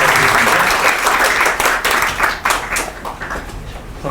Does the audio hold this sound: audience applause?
yes